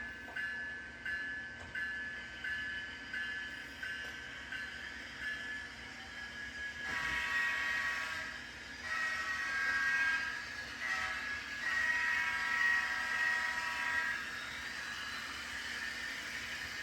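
A Kato Amtrak model train with onboard sound runs with a continuous mechanical whir and rumble while a high, tonal horn sounds repeatedly in short and longer blasts.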